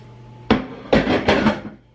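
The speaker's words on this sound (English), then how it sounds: "All right, next I'm going to add all this chicken." Chunks of chicken dropped into a pot of broth give three quick, moderately loud thuds and splashes, each with a short clattering tail, close by and with no talk over them.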